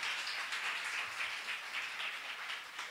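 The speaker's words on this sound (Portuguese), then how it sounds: "Vamos aplaudir a Jesus." A church congregation applauds during a worship service, a steady, dense wash of clapping that holds at an even level for about three seconds with no voices on top.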